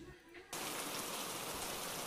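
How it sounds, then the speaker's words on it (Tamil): Rain falling outside begins abruptly after a brief quieter moment, then holds as a dense, steady hiss of drops that fills the rest of the stretch at moderate level. "மறுபடியும் மழை ஆரம்பிச்சிருச்சு."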